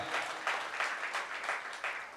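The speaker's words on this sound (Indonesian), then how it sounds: "Tepuk tangan bagi Tuhan kita." A church congregation at a Sunday worship service in Tigaraksa, Indonesia, claps together in a steady rhythmic pulse, roughly three beats per second, moderately loud and filling the room.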